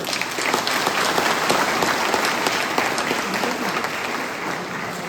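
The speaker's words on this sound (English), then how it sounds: "A big round of applause for HMLA Circle." A college audience at a ceremony claps loudly and steadily for a local legislator, a dense crowd ovation running close and full from start to end.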